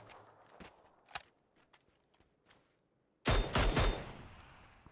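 Video game gunfire, first scattered single shots and footstep-like taps at moderate level, then a sudden loud, dense burst of rapid automatic fire lasting about a second, tailing off into echoing noise.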